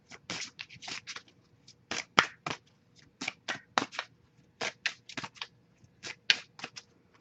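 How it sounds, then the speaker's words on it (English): Close, crisp bursts of a card deck being shuffled and riffled for a tarot reading, in an irregular rhythm, with short pauses between flurries. "We'll see, I'll give it a couple more shuffles."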